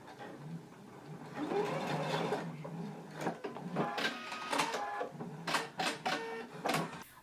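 A sewing machine bastes across the lower edge of a shirt in several close bursts of rapid mechanical stitching, stopping and starting with short pauses between runs.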